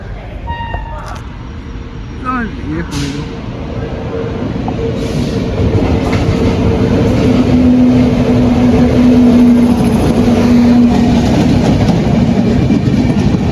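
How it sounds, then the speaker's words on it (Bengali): The Kolkata–Jammu Tawi Express rumbles into Andal Junction, growing louder over several seconds with rhythmic clattering, a few early squeals and a long sustained horn-like tone midway. "কলকাতা জম্মু তাবি এক্সপ্রেস চলে এসছে"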